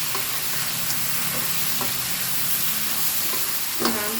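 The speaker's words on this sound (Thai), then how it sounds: "ผัดอย่างเร็วอ่ะ" Catfish with holy basil being stir-fried quickly in a pan, a steady close sizzle with a few scraping strokes of the spatula and no talking.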